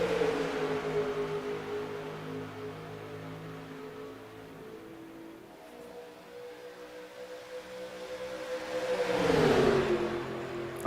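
A race car engine in the iRacing video game revs up from a high whine, fades into a steady drone, then climbs again to a loud accelerating scream near the end, with no voices over it.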